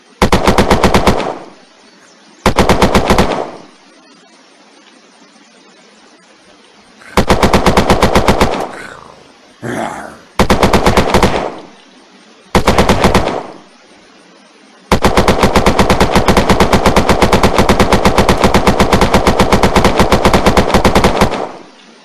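Machine-gun fire from the Unturned video game with Western Front weapons mods: long sustained bursts of rapid, loud automatic shots, broken by short gaps, with one long continuous volley at the end.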